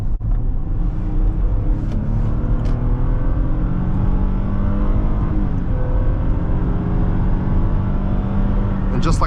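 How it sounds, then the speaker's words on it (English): A 2011 Lexus RX350 SUV accelerates hard from inside the cabin, its engine note climbing steadily through the gears under road and wind noise. "Let's give these guys some space and see how quick it accelerates."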